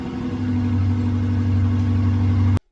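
A project car's engine idles with a shortened exhaust ending at the rear axle, a loud, steady low rumble with a throbbing pulse, heard close up and alone until it cuts off abruptly.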